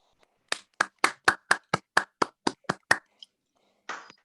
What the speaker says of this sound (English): a round of applause for TM Nyoma for that amazing speech